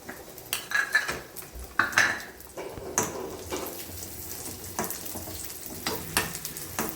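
Raisins fry in a pan for jaggery pongal, with steady sizzling, several sharp clinks of a metal spoon against the pan, and stirring scrapes throughout, close and moderately loud.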